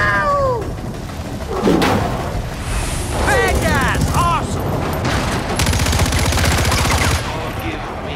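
Rapid gunfire from a moving vehicle in Far Cry 4, rattling bursts over engine rumble, with voices talking and yelling throughout.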